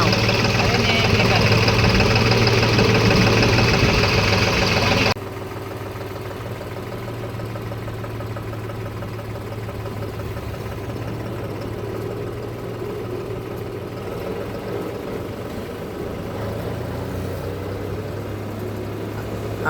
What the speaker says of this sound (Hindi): अब मैं चला के देख रहा हूँ कि ट्रैक्टर में आवाज़ तो नहीं आ रही कुछ, और परफॉर्मेंस कैसा है।